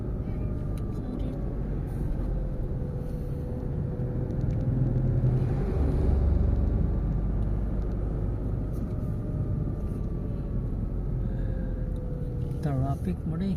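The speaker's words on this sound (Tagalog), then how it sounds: "Traffic." Road traffic in slow-moving congestion near a police checkpoint, steady engine rumble and passing vehicles close by, with a person talking over the noise and a brief brake-like squeal near the end.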